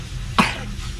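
A single sharp cough bursts out close by, brief and loud against a steady low background hum.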